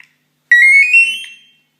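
An ECR pager beeper switched on gives one electronic alert tone lasting about a second, a bright steady beep that rises slightly in pitch and then fades, heard alone in silence.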